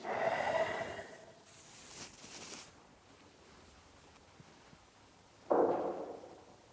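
During Nauli yoga practice, a forceful breath is pushed out through the nose at the start, followed by quiet, then another sharp, close exhale near the end.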